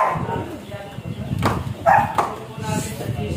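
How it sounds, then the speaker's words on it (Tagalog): A dog barks a few times nearby amid background chatter, with people talking over the barks. "Yung maingay sa labas. Yung aso ni Dr. Lab."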